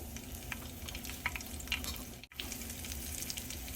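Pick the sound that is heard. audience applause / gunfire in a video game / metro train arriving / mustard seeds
mustard seeds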